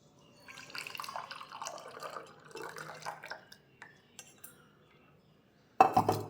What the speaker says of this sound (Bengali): এবার একটা ছাঁকনার সাহায্যে এটা ভালো করে ছেঁকে নেব।